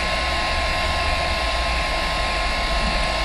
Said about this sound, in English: we're going to heat that through obviously with the heat gun again